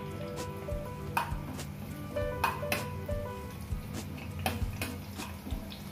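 Curry leaf sprigs drop into hot oil in a pan for paneer masala curry, giving a steady quiet sizzle with a few sharp crackles and utensil clinks.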